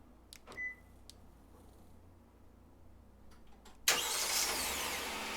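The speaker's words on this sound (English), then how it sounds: "The Palisade will respond by flashing its lights and starting." Hyundai Palisade engine starting by remote key fob, a few faint clicks at first, then a sudden crank and catch that settles into a steady, fairly loud idle, with no one talking.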